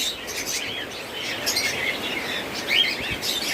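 Pet birds including budgerigars chirping at a bird seller's, a dense chorus of high twittering calls close by, steady throughout with no voices.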